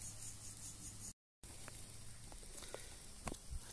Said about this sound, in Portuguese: Ela vai cozinhando e a quentura vai estourando o torresminho lá.